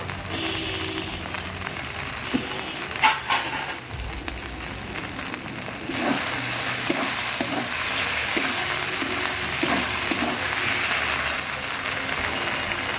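Chopped tomatoes fry with chicken over a medium gas flame, giving a steady, dense sizzle with bursts of crackle. The sound grows louder partway through as the tomatoes hit the pan, and no one speaks.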